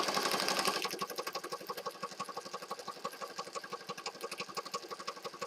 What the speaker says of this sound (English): So I just stitched those 2 spots, and now I'm just going to go all the way around the outside edge.